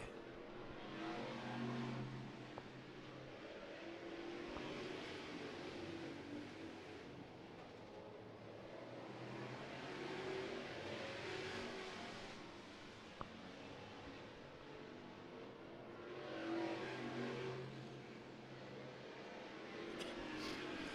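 Street stock race cars battle for third place on a dirt track, their engines roaring and swelling in waves as they pass at a distance, a continuous rumble with no talk.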